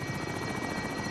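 Helicopter rotor and engine roar from Call of Duty Warzone, a steady, dense whir filling the whole clip with an even, close, continuous drone and no talk over it.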